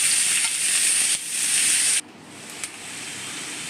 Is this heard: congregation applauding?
no